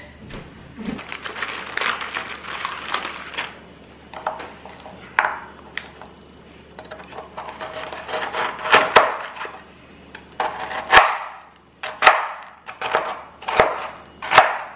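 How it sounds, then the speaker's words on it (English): Knife roughly chopping Oreo cookies into large chunks on a board for cookies and cream blondies, a series of sharp, close thuds and taps in uneven bursts with short pauses, no talking. "I'm just gonna roughly chop"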